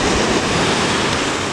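Ocean waves wash onto a beach below a cafe near an old lighthouse, a broad, steady rushing roar from a distance mixed with wind, with no voices.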